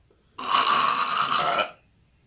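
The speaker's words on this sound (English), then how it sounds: "Oh, I burped." A single drawn-out burp after sipping Appalachian Sippin Cream, close and loud, lasting over a second with a raspy croak before fading to quiet.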